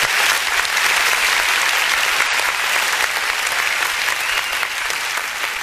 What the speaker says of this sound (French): Je pense qu'on peut applaudir pour ça.